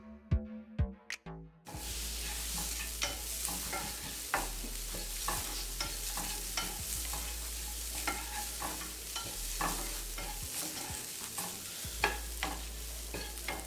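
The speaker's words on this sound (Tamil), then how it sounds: "இப்போ நம்ம தேங்காயும் சேர்த்து நல்லா ரோஸ்ட் பண்ணிக்கலாம்." Spices and grated coconut dry-roast in a pan for a Chettinad crab masala, with a continuous sizzle and repeated scraping strokes of a spatula stirring, following a few sharp knocks at the start.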